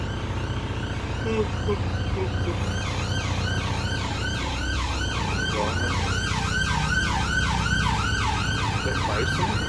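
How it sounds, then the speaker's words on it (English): An ambulance siren wails in a repeating rising-and-falling pattern, growing clearer and steady over road traffic hum, while people talk nearby. "What's that? Ambulance."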